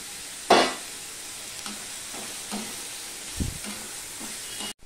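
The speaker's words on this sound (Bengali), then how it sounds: "এবার দিয়ে দিচ্ছি আলুগুলো, গ্রেট করা আলু।" Grated potatoes, washed and squeezed dry, drop into a hot pan with a sharp burst of sizzling, then fry with a steady low crackle and a few soft stirring scrapes, no one talking.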